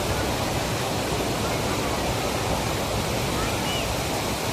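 The Pillappara waterfall near Athirappilly makes a loud, unbroken roar of falling water that fills the whole stretch evenly, a close wall of rushing noise with no clear break.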